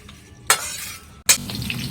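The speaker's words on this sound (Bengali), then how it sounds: "তো আমি সব আলুগুলো তেলের মধ্যে ছেড়ে দিয়েছি" Potatoes cut into large chunks are dropped into hot oil, setting off two sharp, close bursts of sizzling that settle into a steady frying hiss.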